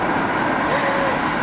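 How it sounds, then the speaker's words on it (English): A metro train gives off a loud, continuous rumbling roar up close, steady throughout, with faint voices mixed into the noise. "we're going to get on the train now"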